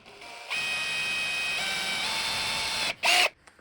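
A power drill bores a hole into a crucifix, with a steady high-pitched whine lasting a few seconds before a brief stop and a short second burst, close and loud with no talking.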